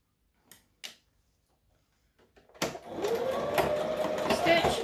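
A sewing machine stitching and back stitching while a Vogue 9345 pattern is sewn: a couple of faint clicks, then a loud, steady, close mechanical whir that keeps running to the end.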